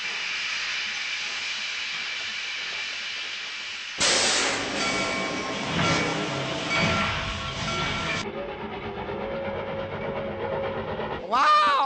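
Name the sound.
train car interior while riding (anime)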